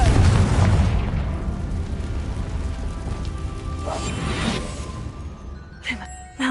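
A Confringo spell in Hogwarts Legacy bursts with a loud booming blast at the start that decays into crackling debris and rumble, followed by smaller pops.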